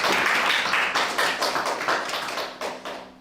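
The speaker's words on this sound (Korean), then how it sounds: "다 같이 박수로 환영해 주시기 바랍니다." Audience clapping to welcome a speaker at a Korean economic forum meeting held over Zoom, a moderate burst of applause with individual claps audible, thinning toward the end.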